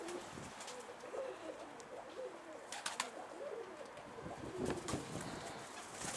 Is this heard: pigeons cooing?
yes